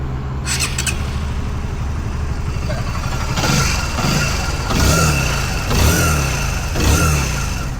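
A Yamaha RS150 motorcycle engine with a PGR Performance setup starts and idles, then revs up in several repeated throttle blips that rise and fall, loud and close.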